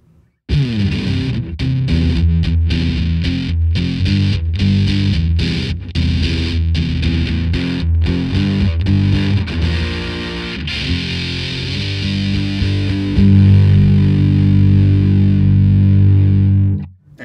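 An electric guitar through an Electro-Harmonix Sovtek Deluxe Big Muff Pi fuzz pedal on its low Q setting plays a chugging riff with a round, thick tone, loud and alone, ending with a sustained chord.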